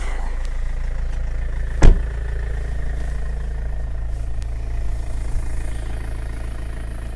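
A BMW car engine turning over with a brief loud crank, then settling into a steady, low idle rumble that carries on evenly to the end.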